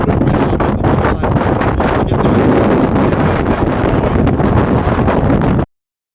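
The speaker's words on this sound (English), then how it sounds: "brutal wind up on the front" Strong, brutal wind roars across an exposed mountain ridge, a loud and constant buffeting rush that batters the microphone without a break until it cuts off abruptly.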